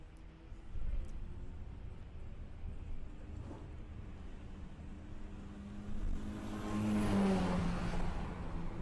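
A VW Passat makes a drag racing run at Santa Pod, its engine droning steadily through the clip before rising to a louder rev near the end.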